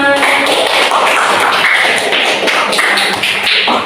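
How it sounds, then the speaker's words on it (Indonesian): Classroom of students clapping hands together, a loud, dense burst of many overlapping claps from close by, steady throughout with no talk. "Tepuk tangan buat kita semua"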